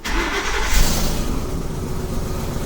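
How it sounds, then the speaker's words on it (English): A gas or diesel 2008–2010 Ford Super Duty F250 pickup engine runs steadily after a remote start, a continuous close low rumble with a slight surge near the start and no talking. "with the engine running"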